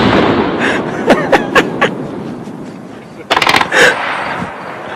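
A tank's main gun fires, a loud deep boom followed by rapid crackling bursts and echoing blasts, heavy and close.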